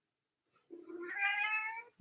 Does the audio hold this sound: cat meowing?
yes